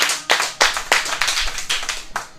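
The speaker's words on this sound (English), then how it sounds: "Clap it up for Joe Nay!" A small audience at a comedy open mic claps in scattered, uneven bursts, with individual hand claps heard close and distinct rather than as a full roar of applause.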